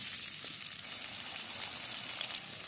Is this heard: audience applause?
no